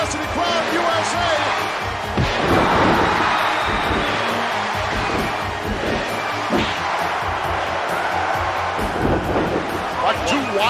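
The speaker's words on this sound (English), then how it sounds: "Chant going off in this capacity crowd" A capacity crowd at a WWF wrestling arena chants USA in a steady, roaring wash of voices, with a commentator talking over it throughout.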